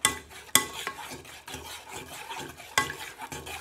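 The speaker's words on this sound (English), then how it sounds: "So you've got to keep stirring and stirring." A utensil stirs milk in a pan for a cauliflower cheese sauce, making repeated scraping swirls with sharp metallic clinks against the pan edge, close and fairly quiet, with no talking.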